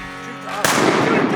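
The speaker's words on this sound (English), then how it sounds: "Good shooting, Carson." A single loud gunshot cracks out midway, its sharp blast followed by a lingering rumble of noise, preceded by a brief steady tonal sound.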